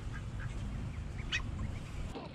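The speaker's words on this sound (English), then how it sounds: "Ducks are getting big." Young ducks, a cross between a runner duck and a Muscovy, give a few faint, scattered quacks over a steady outdoor background hiss, with no voices.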